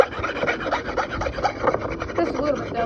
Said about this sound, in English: First, I'm going to get a chisel and I'm going to chisel the sides.